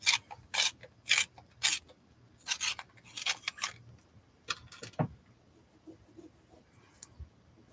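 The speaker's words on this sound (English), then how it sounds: "Sharpen this one too." Color pencil sharpened while drawing an eye, with several short rasping, grinding bursts of the sharpener separated by brief pauses, close and fairly quiet, plus lighter scratchy handling sounds toward the end; no talking.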